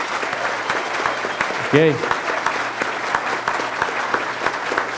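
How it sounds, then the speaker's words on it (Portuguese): Steady applause from an audience at a trade union debate fills the clip, with a brief spoken word in Portuguese heard over the clapping. "que todo o plenário fizesse uma salva de palmas aos nossos 2 candidatos e à nossa assessoria"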